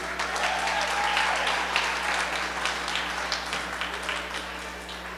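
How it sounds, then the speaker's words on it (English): Applause from the audience at a Detroit nonprofit benefit event after the storytellers are thanked, a steady dense wash of many hands clapping that holds strong throughout, then eases slightly toward the end. "Round of applause."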